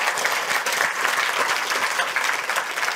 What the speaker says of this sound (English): So I would like to have an applause for all the speakers which contributed to that.